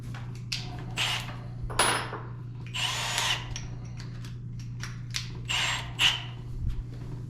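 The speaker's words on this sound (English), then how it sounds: "Drill another hole." A power drill whirs in short, uneven bursts with pauses between, drilling holes in wood for an antique Massey No. 17 wood vise, close by, with some clicks and creaks of the work.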